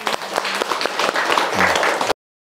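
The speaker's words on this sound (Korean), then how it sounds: "여러분 박수 한번 부탁드립니다" An audience at a Korean motivational lecture breaks into full, sustained clapping that fills the hall, with a few brief voices rising through it before it cuts off abruptly.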